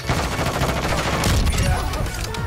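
Loud, dense gunfire fills a dark room in Call of Duty: Modern Warfare II, with an Intervention sniper rifle among the overlapping shots in a short, continuous burst.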